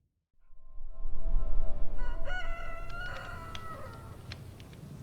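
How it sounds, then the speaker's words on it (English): A rooster crows loudly in the morning, a single drawn-out call rising and then trailing off over a rumbling background, with no voices. "There's the sound of the morning rooster."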